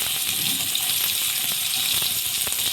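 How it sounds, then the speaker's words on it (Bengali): Pointed gourd pieces coated in salt and turmeric fry in hot white oil, giving off a dense, steady sizzle that holds at the same loudness the whole time with no voices. "লবণ আর হলুদ মাখানো পটলগুলো ভেজে নেব।"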